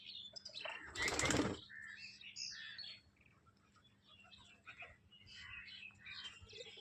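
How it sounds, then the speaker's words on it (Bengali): Pigeons burst out of their loft after being coaxed with mustard seed. A sudden loud flurry of flapping wings comes up close, followed by scattered soft chirps and rustling. "পায়রাগুলো বার হচ্ছিল না, তো আমি একটু সর্ষে দিয়েছি"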